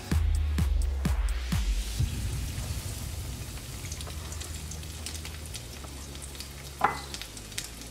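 Breaded snook fillets fry in a pan of oil with a steady, close crackling sizzle throughout, several louder spatters and clinks at the start and a sharp pop near the end.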